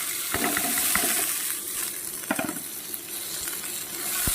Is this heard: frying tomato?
yes